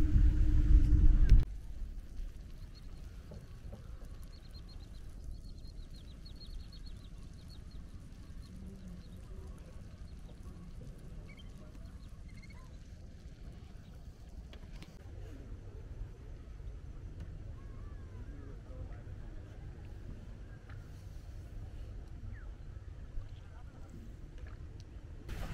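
A boat carries passengers along a river at Chupi Char, Purbasthali, past floating water weeds. A low, steady engine rumble continues throughout after a brief loud thump at the start.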